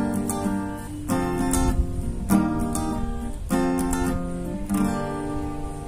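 Acoustic guitar strummed in a steady rhythm through a chord progression for a song cover lesson, with bursts of strokes roughly every second, close and clear with no talking.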